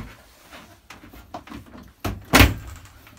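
A sliding shower door inside an Autosleepers Devon campervan is moved across, giving soft rattles and scrapes that end in a sharp, close clack as it shuts; no talking.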